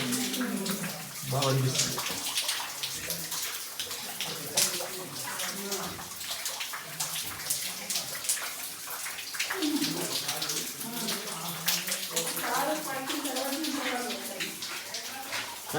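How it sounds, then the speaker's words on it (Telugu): Water seeping from the hills drips and splashes steadily inside the Mawsmai limestone cave in Meghalaya, a dense close patter throughout while a person talks over it. "పై నుంచి వాటర్ పడుతూనే ఉన్నాయి, కొండల్లో నుంచి వచ్చిన వాటర్ అన్నమాట ఇవి"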